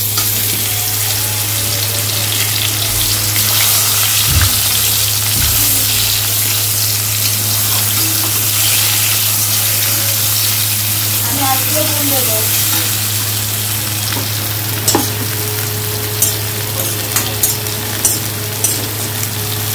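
Food fries steadily in a hot pan, a constant close sizzle with occasional stirring clinks and knocks toward the end, and no talking over it.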